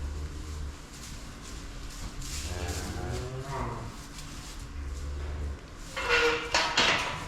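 On a farm, a cow with a calf feeding from her moos several times and stirs about nearby, followed by a short clatter and a little faint talk.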